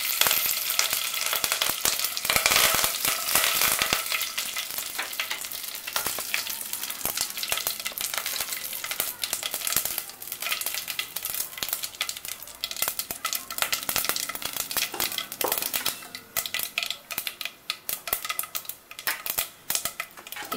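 Curry leaves sizzle and crackle steadily in hot oil for Maharashtra-style poha, a loud continuous frying hiss with occasional utensil clinks, no voices.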